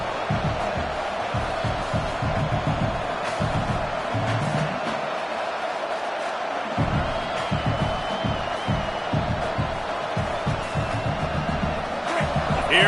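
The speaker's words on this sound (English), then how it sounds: "this crowd is turning it up a notch" Steady stadium crowd roar in a college football video game, with a broadcast-style voice talking over the dense, continuous noise throughout.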